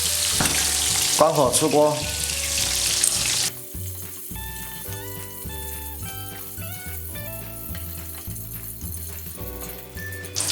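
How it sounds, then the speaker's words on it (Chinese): A breaded chicken cutlet sizzles in hot oil during its second deep-frying, a loud, dense crackle for a few seconds under a brief spoken phrase, then giving way to background music. "把刚才炸好的鸡排再放进去，再炸一次"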